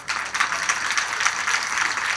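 An audience clapping at a religious kirtan, continuous dense applause of many hands, steady and fairly loud throughout with no voices over it.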